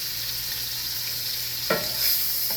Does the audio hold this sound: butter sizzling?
yes